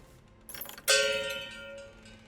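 A bell in Sapienza in Hitman is struck once with a bright metallic clang and rings on, decaying over a second or more, after a brief rattling lead-in.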